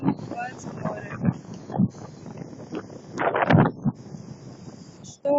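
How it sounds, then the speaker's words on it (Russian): Stormy winter wind at the sea in Novorossiysk buffets the microphone in loud gusts and rumbles, with a person talking over it and a heavy gust surging near the middle. "Шторм, ветер"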